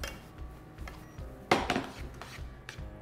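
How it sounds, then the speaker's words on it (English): Pasta with cheese being stirred and tossed in a pan, soft scraping clinks of a utensil against the pan with one sharper clatter in the middle, fairly quiet and close, with no talking. "I'm gonna stir, toss"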